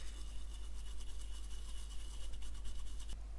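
A small brush scrubs residue off a car alarm remote's surface-mount circuit board, a steady close-up rapid bristly scratching that continues without pause over a low constant hum.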